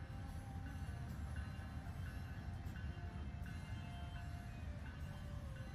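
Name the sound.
passing train in American Truck Simulator video game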